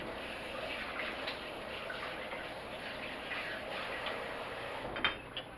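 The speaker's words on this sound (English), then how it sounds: "Once again, let me wash my hands." Tap water runs steadily into a kitchen sink while hands are washed, a soft continuous rush with a couple of brief clatters near the end.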